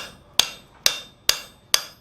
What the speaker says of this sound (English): go ahead and start hammering that on around.